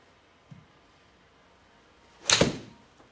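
A golf ball struck with a Callaway Rogue X iron: a single sharp, loud impact crack with a brief ringing tail, preceded by a faint soft tap and otherwise quiet surroundings.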